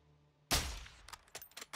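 A single sharp gunshot blast with a booming low tail, followed by faint clicks and small rattles, in the video game Call of Duty: Modern Warfare II.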